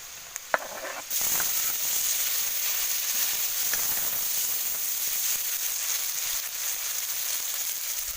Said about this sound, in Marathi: नंतर आता हा टॉमॅटो टाकते